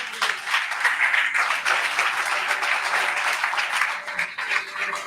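A church congregation applauds together at a worship service, a dense, sustained wash of clapping that swells and fades slightly across the stretch, with no voices standing out.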